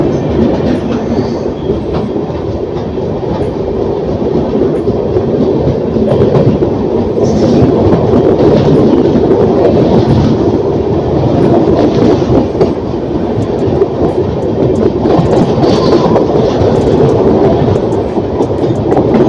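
An Indian superfast express train, the Bihar Sampark Kranti, runs on rails with a steady loud rumble, rhythmic clickety-clack of wheels and occasional squeals, heard close as if from inside the coach.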